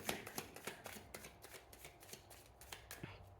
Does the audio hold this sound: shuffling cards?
yes